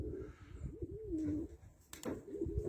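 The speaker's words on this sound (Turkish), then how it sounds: "Beyaz İstanbul güvercinden şimdilik bu kadar." A white Istanbul pigeon coos close by in soft, rolling low calls, with a brief sharp noise midway and quiet surroundings.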